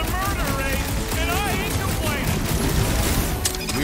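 Sustained volleys of gunfire in the Guardians of the Galaxy video game crackle steadily throughout, mixed with whooshing game effects and voices talking over the action.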